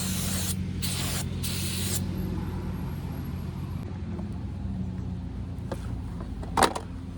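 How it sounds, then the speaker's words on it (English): Brake cleaner sprayed onto the fuel injectors of a 2010 Chevy Silverado 5.3L V8, three sharp hissing bursts in the first two seconds, then a low steady hum with a brief metallic tap near the end. "Get it with a brake cleaner."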